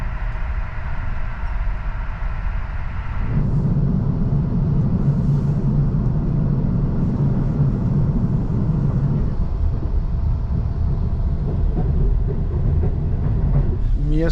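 Inside a sleeping car of a night train crossing Poland, a steady low rumble and rolling drone fill the whole stretch, rising and deepening partway through, with faint rattles in the background.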